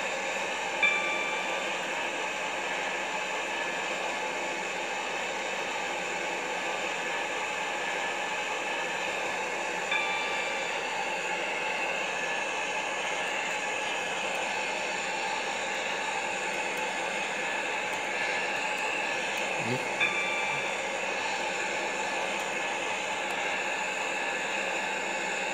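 A train in the video game Stepford County Railway, SCR Connect service between Whitefield and Stepford Central, runs steadily with a constant broadband rumble and hiss, faint periodic clicks, and a brief low thud near the end.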